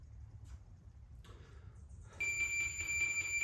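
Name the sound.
workout timer bell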